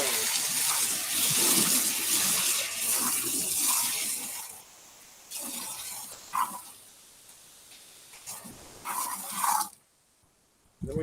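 Water gushes loudly through a hose on a bus wash connected by a quick disconnect, a steady rushing spray that eases and surges before cutting off abruptly near the end.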